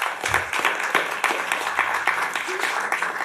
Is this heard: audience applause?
yes